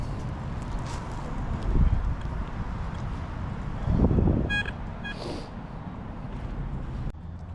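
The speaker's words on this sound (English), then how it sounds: "The weather situation is deteriorating rapidly here, and it's getting windy" Outdoor wind buffets the microphone as the weather turns, a continuous low rumbling roar that swells in a couple of stronger gusts, with a few faint clinks and rustles and no talking.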